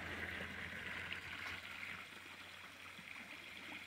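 Aerating water flows and trickles in a steady, continuous wash with a bright hiss, close and unbroken for the whole stretch.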